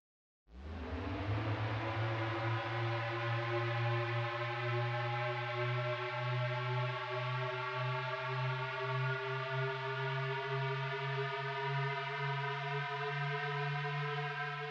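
A steady, sustained siren tone with a sharp onset and a rich, droning harmonic buzz, holding constant at one pitch the whole time.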